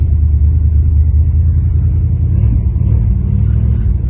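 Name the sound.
1966 Plymouth car engine running and idling in snow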